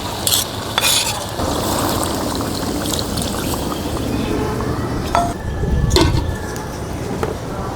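Shing fish is dropped into a village pot of boiled vegetable curry with fried potato, brinjal and stalks, making wet splashing and stirring noises with metallic clinks of a spoon against the pot.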